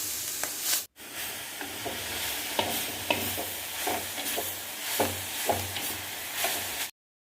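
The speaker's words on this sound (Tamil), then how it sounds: "கீரையை நல்லா மிக்ஸ் பண்ணி விடுங்க" Line keerai greens with tempered onion stirred in a hot pan: a steady sizzle broken by repeated scraping strokes of the spoon, close and fairly loud, with no talking.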